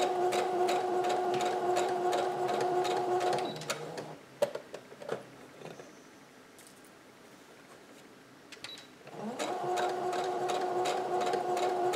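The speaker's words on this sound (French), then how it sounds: "on remonte un peu sur notre couture qu'on a commencé tout à l'heure" A sewing machine stitches a tank top seam in a steady, fast mechanical run, stops midway for a few quiet handling clicks, then starts up again at the same even pace.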